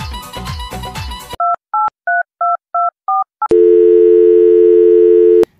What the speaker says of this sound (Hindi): ला तो ला, फोन मिला दे